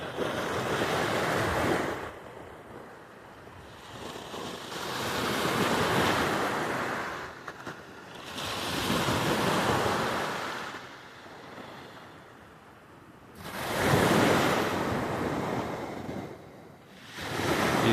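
Sea waves roll in and wash out in slow surges, loud and close, with wind buffeting the microphone.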